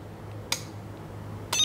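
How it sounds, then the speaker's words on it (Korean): Two crisp shutter clicks from the X shutter on a Phase One XT camera, spaced about a second apart, short and bright against a quiet room hum. "요게 이제 X셔터의 촬영되는 소리고요"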